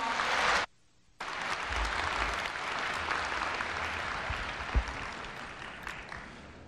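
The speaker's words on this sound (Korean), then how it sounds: "염재호 총장님을 뜨거운 박수로 맞이해 주시기 바랍니다" An audience at a university freshman entrance ceremony applauds to welcome the university president, a full burst of clapping that cuts out briefly, then resumes and carries on steadily, close and even.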